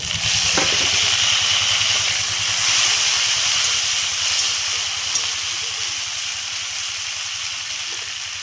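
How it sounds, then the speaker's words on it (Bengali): Tomato and green chilli fry in a pan with chopped onion, a loud steady sizzle and hiss running unbroken and alone, fading slightly toward the end. "এটাকে এখন একটু ভাজা করে নেব।"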